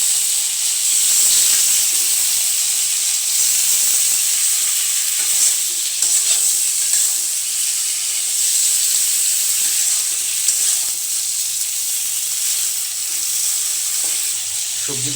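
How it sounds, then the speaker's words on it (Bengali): Vegetables fry with salt in a pan for fish curry, giving a loud, continuous hiss and sizzle that holds steady throughout, with faint stirring underneath. "সবজিগুলো কিন্তু একটু ভাজা ভাজা হয়ে এসছে হালকা।"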